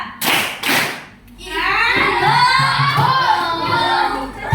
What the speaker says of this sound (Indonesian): Tepuk tunggal. Tepuk tunggal. Ganda.